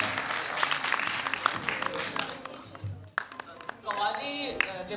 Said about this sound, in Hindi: बहुत पुरजोर तालियां